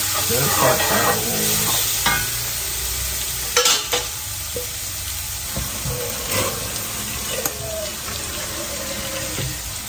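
Blended garlic fries in a pan while being stirred, giving a continuous close sizzle broken by scraping and clinks from the utensil. There is no speech.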